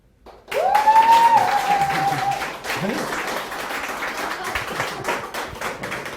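A talk show studio audience breaks into steady applause after a short quiet moment, a dense patter of many hands clapping that continues throughout with a faint voice briefly heard over it.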